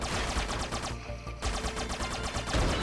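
Rapid gunfire from a player's weapon in The Mummy Demastered, a retro-style action game: a dense, steady stream of shots with a short break in the middle before the shooting resumes.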